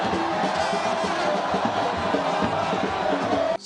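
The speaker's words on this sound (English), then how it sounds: "The crowd chanted his name amidst cheers." A campaign rally crowd cheers and shouts together in a dense, continuous roar, with rhythmic chant-like surges running throughout before cutting off abruptly at the end.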